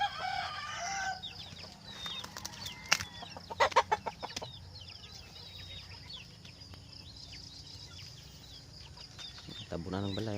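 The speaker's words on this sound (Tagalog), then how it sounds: "Mga manok, okay pa." Chickens cluck around a rural home yard, with scattered bird-like calls and a rooster-type crow rising over a steady outdoor background hiss; a busier burst of clucking comes near the middle and another at the end.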